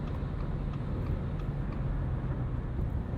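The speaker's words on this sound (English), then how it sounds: "let you get an idea of how the car sounds at 70 miles per hour." Inside a 2020 Subaru Forester cruising at 70 mph on a highway with traffic around, a steady broadband rumble of road and wind noise holds evenly, moderately quiet, with no speech.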